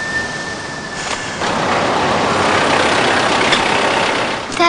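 A car engine runs steadily, close and fairly loud, its low rumble growing a little stronger partway through before easing off at the end.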